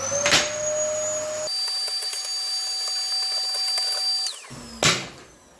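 A Dyson household vacuum fitted with an extender and hooked to a dust cyclone system drones steadily with a high whine, cutting off partway and then stopping near the end, with a couple of sharp knocks at the start and finish.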